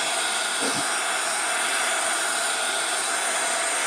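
A hair dryer blows steadily at close range over a scrapbook page, a loud, unbroken airy hiss that holds for several seconds with a faint knock near the start.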